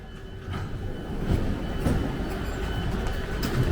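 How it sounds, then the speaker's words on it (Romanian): A Barcelona metro train pulling into the station, a steady loud rumble of wheels and motor with rail clatter building and holding throughout, no talking over it. "Gata, a sosit și metroul nostru."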